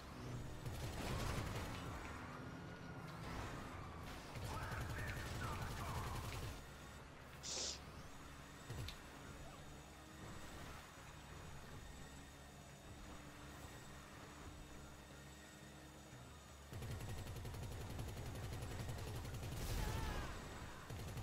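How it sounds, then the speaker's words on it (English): Gunfire in a video game set in Los Santos as civilians are shot, loud bursts of shooting at the start and again near the end, with quieter mechanical game noise in between. "Shooting innocent civilians."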